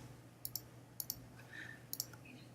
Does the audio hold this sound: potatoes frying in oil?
no